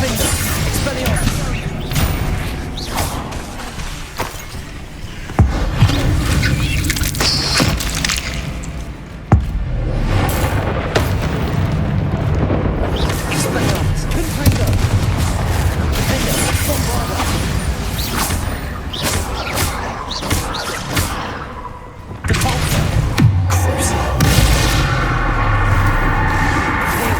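Spell blasts from Confringo and Bombarda in Hogwarts Legacy go off as repeated booming impacts and crashes, dense and loud throughout, with sharp hits near 5 and 9 seconds and a fresh burst around 22 seconds amid a busy combat mix.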